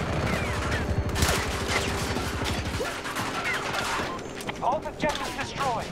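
A Gatling gun fires in Battlefield 2042. A dense, rapid stream of shots runs loud for about three seconds, then fades into scattered battle noise while players talk.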